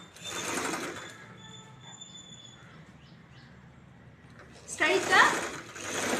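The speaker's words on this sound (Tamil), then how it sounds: "இந்த சிசர் மார்க்கில் இருந்து 1/4 இன்ச் அளவுக்கு ஸ்ட்ராங் தையல் போடுறோம்" A sewing machine stitches a blouse shoulder seam in two quick whirring bursts, one at the start and a louder one near the end, with a voice talking quietly between them.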